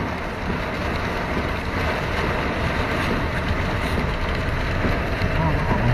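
Steady, loud rushing wind fills the whole stretch without a break, a constant outdoor roar on a drive home past trees in traffic as rain begins.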